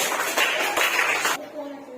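Third-grade schoolchildren clap together in a classroom, a close, dense patter of many hands for over a second that cuts off abruptly, leaving a voice talking.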